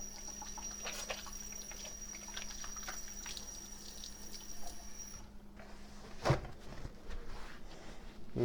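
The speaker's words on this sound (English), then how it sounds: "I'm going to wash my hands real quick" Tap water runs while someone washes their hands in a kitchen during bone broth preparation, a soft steady hiss that stops partway through, followed by faint splashes and handling sounds.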